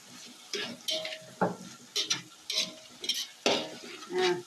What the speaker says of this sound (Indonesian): saya akan aduk terlebih dahulu seperti ini